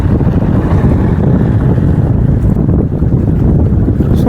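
Steady rushing sea waves at a beach in Thoothukudi, with a low, continuous churn and wind buffeting the microphone, loud and close throughout with no voices.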